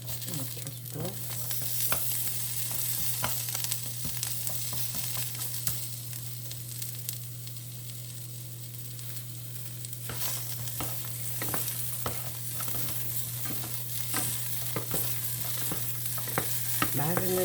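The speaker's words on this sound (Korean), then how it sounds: "여기다가 마늘 슬라이드로 쓴 거를 좀 익혀줘야 되겠죠" Sliced garlic stir-frying in a pan makes a constant crackling sizzle, with frequent small clicks and scrapes from stirring, under a low steady hum.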